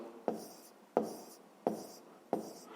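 A pen or pencil strikes and scratches out figures for a fifth-grade math calculation in four evenly spaced short bursts, close and faint, with no talk between them.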